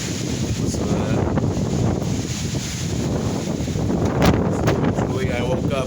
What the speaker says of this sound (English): You can see how much wind there really is.